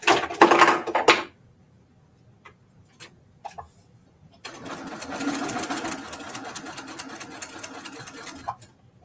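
A sewing machine stitches across the seam of a Deerly Loved quilt: a short, close burst of rapid stitching, a pause with a few faint clicks, then a longer steady run of needle chatter.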